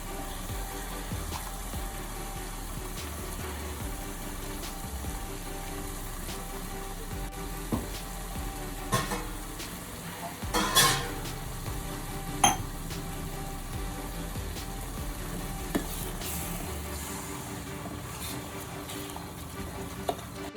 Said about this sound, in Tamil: இந்த தக்காளியோட பச்சை வாடை போகிற வரைக்கும் இது நல்லா ஃப்ரை ஆகட்டும்.